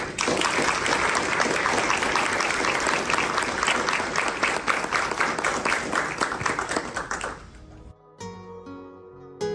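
Dense, loud crowd applause at a book launch lecture honoring Sebastião Camargo, sustained for several seconds before fading abruptly into soft background music.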